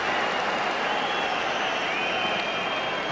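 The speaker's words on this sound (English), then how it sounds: "Huge applause for Steve Brown." Dense, steady wash of stadium crowd applause and cheering at a 1998 Aston Villa v Charlton Athletic football match, filling the whole stretch at a constant level.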